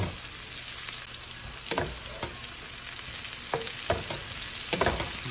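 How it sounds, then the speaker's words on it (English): Yellow onion and peppers cook in a pan with a faint, continuous sizzle. Several sharp scrapes and taps from a spatula stirring the vegetables are spaced through the sizzle. "We're going to cook that till those peppers start to soften up."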